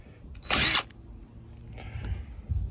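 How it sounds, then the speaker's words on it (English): A short, loud burst of a power drill biting through an RV's thin aluminum roof skin, lasting well under a second, followed by quieter handling noises. "I'm not sure how thick it is here, but drill's nice and easy."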